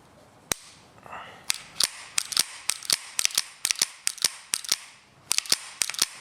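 A pistol slide greased with Brian Enos Slide Glide being racked again and again, a series of sharp metallic clicks and clacks in quick irregular bursts, close and crisp, with brief pauses between sets.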